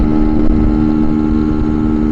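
A Lambretta Li150 scooter engine runs hard in fifth gear at around 70 km/h, a loud, steady two-stroke drone with constant pitch close to the rider, no talking over it.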